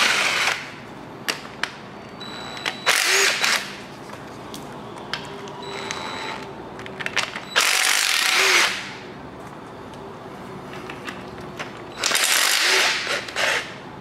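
A tool works loose the 15 mm motor mount bolts on an LS 5.3L LM7 V8 during teardown, with loud bursts of mechanical whirring separated by quieter ticking gaps, close by.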